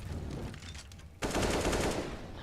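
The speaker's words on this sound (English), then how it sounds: "instantly traded out by Angel, spamming through the smoke into window room" Rapid automatic gunfire from a Counter-Strike esports match, a dense burst of loud shots kicking in abruptly midway after quieter in-game sounds, no voices.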